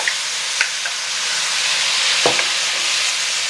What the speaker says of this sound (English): Now we add the finely chopped tomatoes.